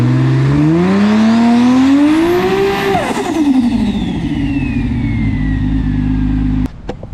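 A car engine is warmed up and revved, its pitch climbing and swooping through a long rev before dropping back to a rough, rowdy idle, then cutting sharply near the end, loud and close.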